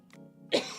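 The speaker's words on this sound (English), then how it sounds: "I got cough." A single short, close cough bursts out after a faint low hum, followed by a quick second rasp.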